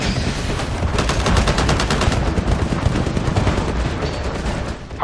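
Continuous rapid gunfire and booming flak in the video game Titanfall, a dense, loud barrage that runs nearly unbroken throughout.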